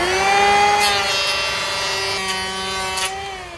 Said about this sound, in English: So if I just put the planer on there, it's automatically going to cut an angle